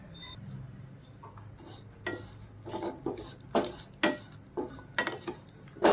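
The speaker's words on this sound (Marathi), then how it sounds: "एक चमचा धणे एक चमचा तीळ आणि एक चमचा जिरे आता हे आपल्याला व्यवस्थित भाजून घ्यायचं आहे" Coriander, sesame and cumin seeds dry roasting in a pan, with faint rasping scrapes of a spatula stirring them in short irregular strokes that grow slightly louder toward the end, no talking.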